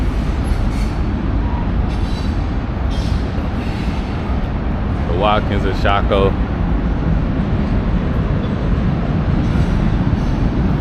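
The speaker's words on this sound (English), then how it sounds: "Hopefully this train moves by the time I get over there by the water." A train rolls past along the riverside trail in downtown Richmond, Virginia, a steady loud rumble of rail cars with brief wheel squeals, while a person talks over it near the track.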